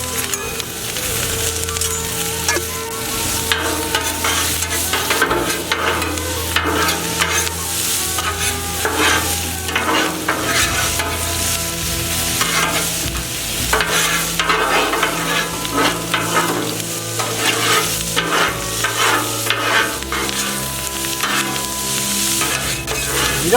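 Vegetables and bologna frying in two tablespoons of hot oil for yakisoba, with loud steady sizzling, repeated stirring scrapes and occasional clinks of a utensil against the pan.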